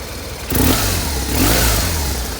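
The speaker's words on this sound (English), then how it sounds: "Two-cylinder fuel injected boxer engine, runs very well." A 2007 BMW R1200R fuel-injected boxer twin motorcycle engine roars to life and revs twice, a loud close throaty drone rising and settling, with no talking.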